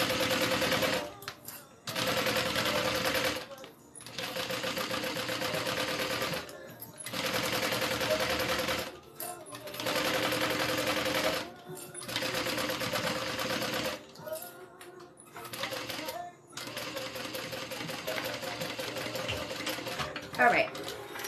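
A sewing machine stitches a bag lining onto a zipper at a 4 stitch length, running in loud rapid bursts of a few seconds each, separated by short pauses.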